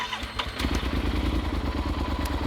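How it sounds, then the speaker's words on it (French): An off-road motorcycle engine starts up and settles into a steady, close idle in neutral, its rapid even chugging running throughout. "on allume le moteur au point mort"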